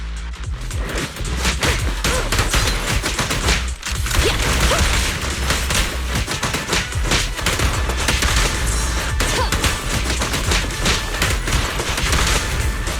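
Dense, continuous gunfire and machine-gun bursts with booms in the video game Zenless Zone Zero, loud and sustained for the whole stretch with rapid overlapping shots and no pause.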